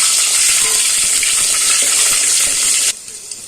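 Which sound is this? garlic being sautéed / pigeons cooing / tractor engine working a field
garlic being sautéed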